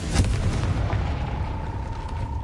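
A Confringo blasting spell explodes in Hogwarts Legacy with a sharp, booming impact at the start followed by a rumbling, crackling tail that fades over a couple of seconds, heard alone without talk.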